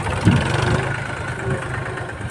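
A steady low tractor engine rumble idles continuously on a farm, close and fairly loud, with a slight thump near the start.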